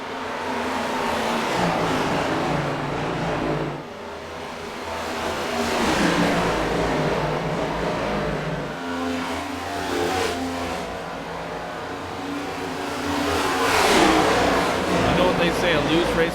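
Race cars roar around Texas Motor Speedway in a Cup Series event, a dense, sustained engine drone that swells and fades as the pack passes, with a commentator talking over it.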